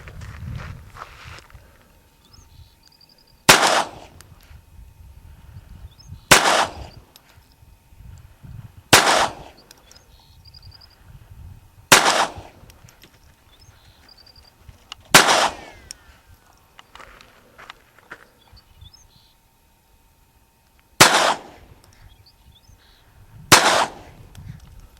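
A Ruger SR22 and a Walther P22 .22 pistol fire Blazer 40 grain lead round-nose ammunition at an outdoor range. Seven sharp, loud single shots ring out several seconds apart, with quiet shuffling and footsteps between them.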